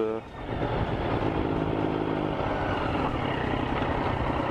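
A Triumph Street Triple 675 motorcycle engine revs up and holds a steady, loud drone under throttle, heard from the rider's position with continuous wind and road noise.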